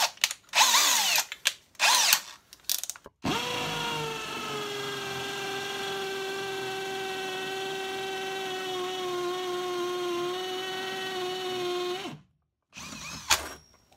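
A Parkside Performance 20V brushless cordless hammer drill bores with a 10 mm bit, giving one steady, loud motor whine for about nine seconds after brief handling noises, then spinning down.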